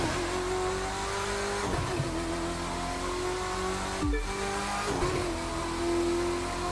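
A Corvette C6.R race car engine in The Crew 2, touring car racing on a wet track, revving hard through several gear changes with brief dips and a sharp break as speed builds again, alone without talk.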